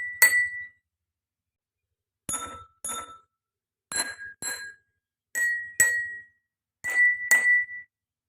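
A metal spoon taps glasses holding different amounts of water, giving clear ringing clinks: one single strike, then pairs of taps at different pitches, each ringing briefly before silence, close and with no talk.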